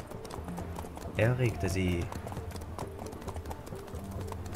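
Horses walking at a slow pace under riders at night, hooves clip-clopping in an audio drama, a steady soft rhythm heard beneath a voice speaking throughout, with a brief louder passage of voices mid-clip.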